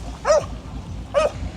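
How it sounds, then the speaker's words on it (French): A dog at a beach on Bohol in the Philippines, one that rides a surfboard with its owner, barks twice, about a second apart, with short, loud, clear yaps close by and no one talking. "Regardez, le chien, il demande à son maître de surfer."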